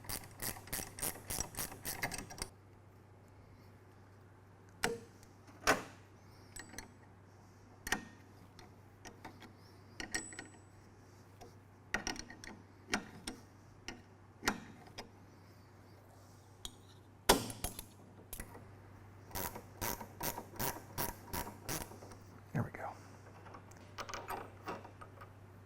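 A GearWrench ratcheting wrench loosens a pre-loosened bolt on a Mustang's front suspension. Sharp, close ratchet clicks come in short bursts separated by quiet pauses over a low steady hum, with no talk.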